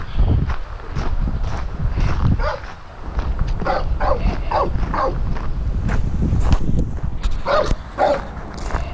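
Dogs let out from a boarding kennel, yipping and barking in short bursts close by, with footsteps and scuffling underneath.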